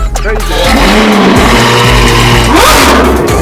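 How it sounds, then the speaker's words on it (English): A loud, close Ferrari 812 GTS engine revs hard, its pitch sweeping up and down through several throttle blips, with a brief voice near the start. "Really, Damon, Dave, this car sounds better than any Lamborghini you've ever had."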